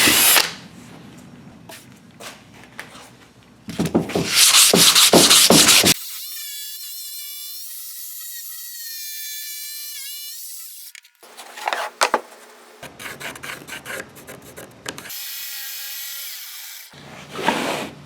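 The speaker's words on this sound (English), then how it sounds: "drill a couple holes here at each end and take the jigsaw and cut these cavities out" A power drill bores holes and a jigsaw cuts cavities out of a board for a multi-cavity soft jerk bait mold, loud close bursts of buzzing and grinding separated by a long whining motor stretch and quiet gaps.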